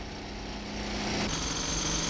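A Montabert pneumatic pusher drives an L37 demolition hammer on site demolition work, making a continuous harsh pneumatic roar with a fast chattering texture that grows slightly louder partway through.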